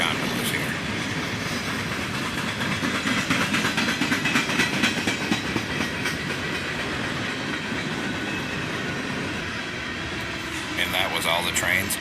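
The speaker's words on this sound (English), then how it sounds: "A lot of grain cars, followed by a bunch of gondolas here." A loud, continuous rumble of a passing freight train hauling grain cars and gondolas, with clickety-clack of wheels over rail joints and faint wheel squeal near the end.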